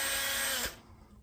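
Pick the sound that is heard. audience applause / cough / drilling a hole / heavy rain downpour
drilling a hole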